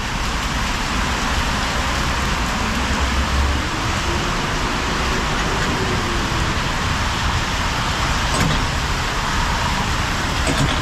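Heavy rain falls steadily in Canada, a dense, constant hiss with a low roadway rumble beneath it, like traffic on wet pavement, continuing without pause.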